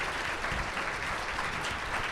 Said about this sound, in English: Big round of applause for our second panel this morning.